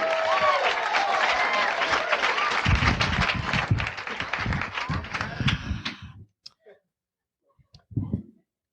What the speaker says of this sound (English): Big round of applause, Carlos Alazraqui.